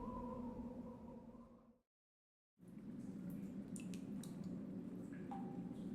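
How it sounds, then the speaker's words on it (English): Sparse, soft water drips and small liquid plinks from the video game Lost Odyssey, scattered irregularly over a low steady hum after a brief silence. "It's a little drippy sound they're making."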